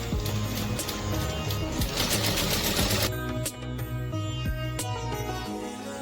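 A domestic sewing machine runs steadily, stitching fabric for a jointed Tilda-style teddy bear, with a continuous mechanical whir and rapid needle clatter that shifts pace partway through.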